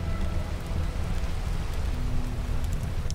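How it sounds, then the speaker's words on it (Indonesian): Heavy rain pours down on a village, a loud continuous wash of drops with a deep rumbling low end, steady from start to finish and with nobody speaking. "Tapi pada hari itu, tiba-tiba hujan turun."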